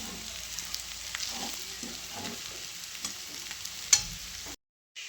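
Potatoes with green chillies cook in a pan, giving a soft, steady sizzle broken by stirring scrapes and one sharp clink of a utensil before the sound cuts off to silence.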